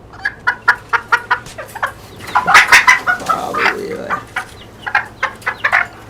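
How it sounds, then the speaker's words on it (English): Chickens cluck repeatedly in the survival video game 7 Days to Die, a steady run of short, close clucks with a louder, denser squawking burst in the middle, then quick clucks again. "Eventually, when I get the T-Rex up and all that, I'll chase down chickens."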